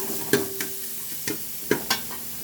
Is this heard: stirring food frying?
yes